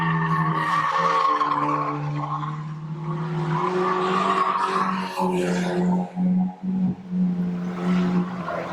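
Stock cars race side by side to the finish line, their engines blending into a loud, sustained roar with steady droning tones and brief dips near the end, and no voices.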